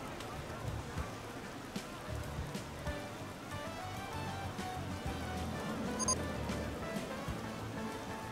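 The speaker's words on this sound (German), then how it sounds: "Jetzt regnet's. Ich will nicht im Regen fahren." Steady rain falling across a theme park in the game Rollercoaster Tycoon 3, a continuous even hiss throughout with a person talking over it.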